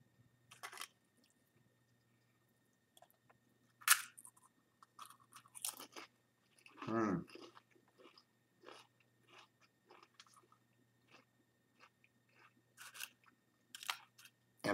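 Someone chews crunchy Paqui Haunted Ghost Pepper tortilla chips up close, with sharp bites and irregular crunches spread through a quiet room, one louder crunch near the middle.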